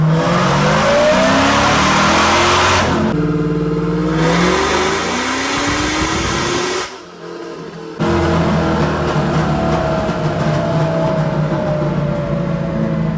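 A car engine on a dyno revs hard in a third-gear pull toward 6,000 rpm, climbing in pitch with brief drops, loud and close, no voices.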